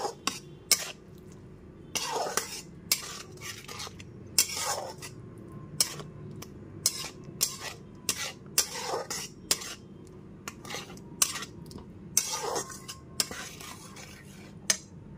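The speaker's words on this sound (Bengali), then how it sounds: "এবার গ্যাসের ফ্লেমটা মিডিয়ামে রেখে খুব ভালো মতো মশলাটা থেকে যতক্ষণ না তেল ছেড়ে আসছে ততক্ষণ পর্যন্ত কষিয়ে নিতে হবে।" Spice paste being stirred and fried in a pan over a medium gas flame, with repeated scraping and clinking of a spoon against the pan in irregular bursts over a low sizzle, close up.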